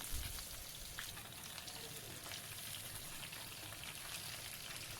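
Pumpkin pieces sizzle steadily in hot oil tempered with dried chillies and black cumin, a dense, even frying hiss that stays constant throughout, with no voices.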